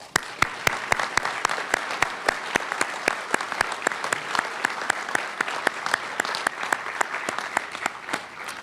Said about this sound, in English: Let's give them a cheer.